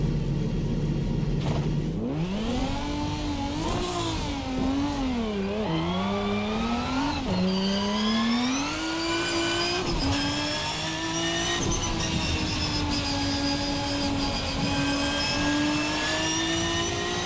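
A VRC Beamer V12 prototype race car in a racing video game revs hard and sustained, its high engine note rising and falling through gear changes and holding a loud, steady scream with no talk.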